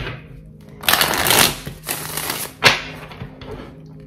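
A deck of slippery tarot cards is shuffled in bursts, close riffling rustles followed by a sharp snap of cards settling, then softer handling.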